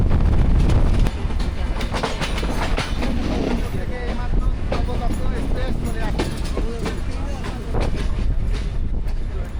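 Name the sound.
moving passenger train on rails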